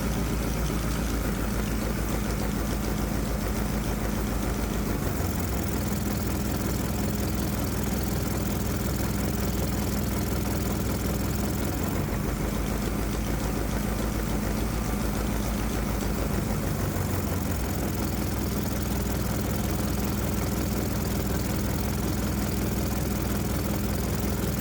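A Predator 212 small engine running on Arduino-controlled throttle body fuel injection drones steadily with a loud, continuous close-up hum and a slight shift in pitch partway through. No speech is heard.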